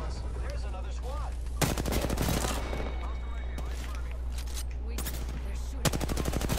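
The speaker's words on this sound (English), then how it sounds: "They're shooting." Dense bursts of automatic gunfire in the battle-royale game Apex Legends, several volleys crackling at moderate distance over a steady low hum, with faint voices mixed underneath.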